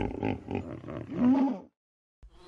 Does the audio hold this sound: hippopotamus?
yes